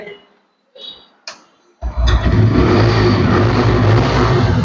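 A nearly new TVS Stryker 125cc motorcycle with about 1000 km on it: a few quiet clicks, then the engine fires and runs loud and steady, close by, for the rest of the clip.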